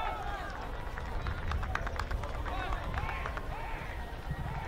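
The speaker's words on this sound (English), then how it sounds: "A little applause outside the booth here." Applause and cheering rise from the crowd at a Thanksgiving high school football game, Andover vs North Andover, heard from a booth as a steady, moderately distant wash of clapping and crowd noise that carries under commentators' talk.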